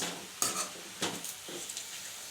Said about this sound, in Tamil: முருங்கைக்கீரையை நல்லா வதக்கணும்.